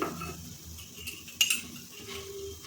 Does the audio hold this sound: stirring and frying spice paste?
yes